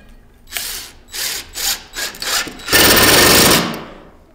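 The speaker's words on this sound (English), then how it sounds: "get a level and then put this lower screw in" A power drill or driver drives the lower mounting screw for a dragon wall hanging display, with several short close bursts of whirring followed by one longer sustained run.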